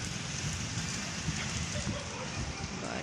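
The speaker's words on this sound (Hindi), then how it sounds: "बारिश बारिश।" Steady rain pours over a village on a gloomy winter afternoon, a constant dense hiss that fills the whole clip at an even level with no break.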